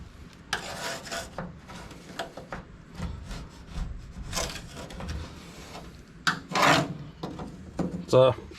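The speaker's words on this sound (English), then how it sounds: "I'll have to get a little sharper scraper in here to really get down in there" Scraper shoving heated old floor material off the rusty bed floor of a K5 Blazer truck, repeated rough scraping and rasping strokes in uneven bursts, near and moderately loud, with some clunks.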